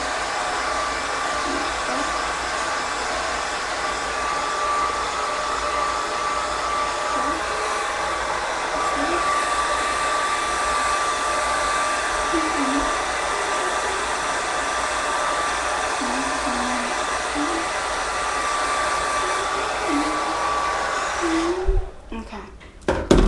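A hair dryer on its low setting blows steadily while drying natural hair, a constant near whir with a faint tone in it that runs unbroken for about twenty-two seconds before cutting off abruptly.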